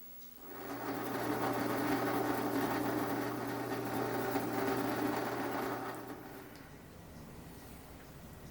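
A small drill turning a 1/16 inch bit: a steady, close motor whine with a constant hum that starts suddenly, holds for about six seconds, then spins down.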